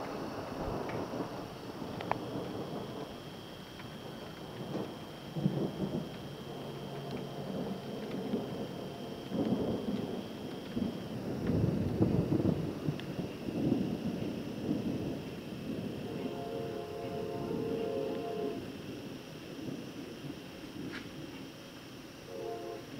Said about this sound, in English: Hear it raining, can't you?